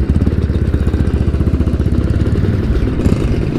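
A Kawasaki Ninja SS 150 two-stroke motorcycle engine burbles close by with a fast, pulsing rhythm and a slight rise in pitch, loud and steady, with no voices.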